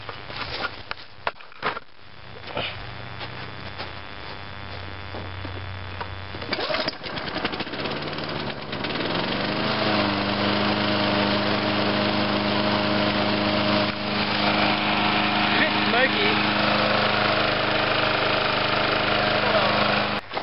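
A small petrol hedge trimmer engine, recently overfilled with oil, coughs through a few pull-start attempts, then catches and settles into a steady buzzing run that rises to a higher, louder drone, close and continuous.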